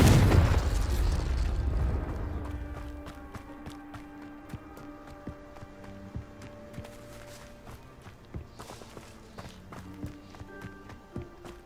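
Spells fire off in the Hogwarts Legacy video game, a loud burst at the start fading into a crackling decay, followed by scattered small pops, footsteps and chiming magical tones.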